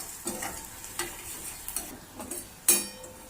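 Onions fry in a pan with a soft, steady sizzle, broken by several light stirring scrapes and a sharper clatter near the end.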